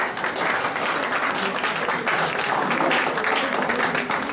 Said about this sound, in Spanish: Solo les pido otro aplauso, por favor.